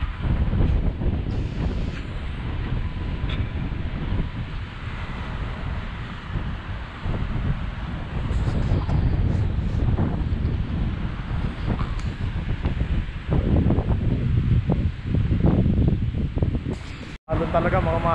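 Waves wash against the shore at Goderich Rotary Cove under gusting wind buffeting the microphone, a rolling surge that swells and eases, with someone speaking at times over it.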